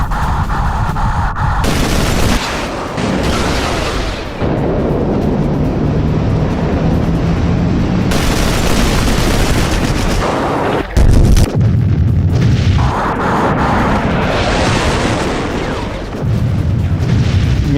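Aerial bombs exploding during the 1982 Falklands War, a long run of loud, dense booming blasts and rumbling detonations, nearly continuous with sharp bursts and no talking.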